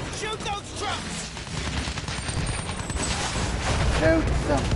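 Gunfire aimed at trucks in the Battlefield 1 video game, a loud, dense mix of rapid shots and blasts that runs throughout, with a voice talking over the top.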